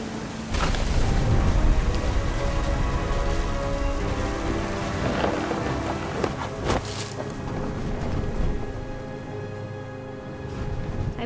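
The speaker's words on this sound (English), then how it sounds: "Thunder sounded much too close and full of angry power." Rain falls steadily and loudly in the video game What Remains of Edith Finch, a dense wash of drops with a low rumble of thunder rolling beneath it and a few sharper cracks, no voices.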